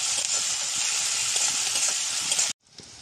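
Garlic paste frying with onions in a pan makes a loud, steady, close sizzle that runs without pause, then cuts off abruptly near the end, leaving only a faint hiss.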